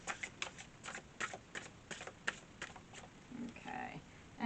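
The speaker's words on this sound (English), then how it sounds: "let's go ahead after this shuffle" Quick, crisp riffling clicks come in short bursts as tarot cards are shuffled up close, with a brief murmur of speech near the end.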